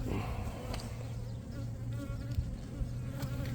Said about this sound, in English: Yeah, look at that bee right there.